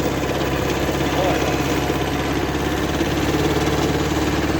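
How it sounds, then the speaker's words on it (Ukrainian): Kubota B5001 tractor engine running steadily while tilling stubble, a continuous low mechanical drone with fine rapid pulsing, even in level and heard from nearby for several seconds. "трактор тікає від мене."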